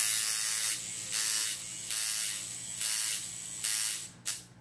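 A coil tattoo machine with a cartridge needle system, its voltage turned up, buzzes nearby in a bright electric drone that pulses in regular loud-soft surges about once a second, stopping abruptly at the end; no talking.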